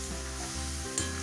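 Milk and jaggery stirred in a pan until the jaggery melts, for dudhpuli pitha: a steady close sizzle over a low humming drone, with a brief scrape near the end and no voices.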